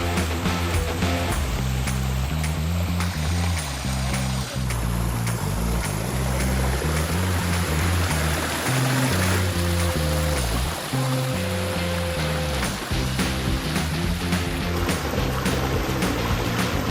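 Water spills steadily over three spillways at a wetland pond on a feng shui property, a constant broad rushing wash heard close and loud beneath tonal music.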